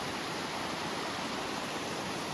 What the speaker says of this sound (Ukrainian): Але шум річки, це просто фантастично.